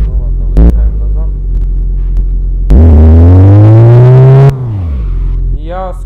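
The Zhiguli-based jeep in the game My Garage idles with a low, loud drone, then the engine revs up in a rising whine for about two seconds as it reverses before settling back, with a brief voice near the end.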